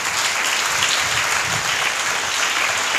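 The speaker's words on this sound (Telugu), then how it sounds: "గట్టిగా చప్పట్లు కొట్టండి." A church congregation at a feast-day sermon applauds loudly, a steady, even wash of clapping filling the whole stretch with no speech over it.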